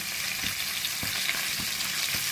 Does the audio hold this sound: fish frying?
yes